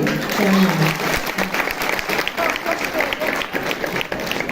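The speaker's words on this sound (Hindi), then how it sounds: "ताली बजाओ भाई" An audience at a dedication ceremony claps in a sustained round of applause, loud at first and continuing evenly with a crowd murmur beneath.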